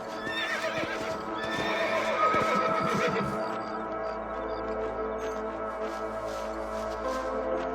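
A horse whinnies and hooves clip-clop briefly in the video game Red Dead Redemption, then a low ambient hum with faint tones carries on steadily.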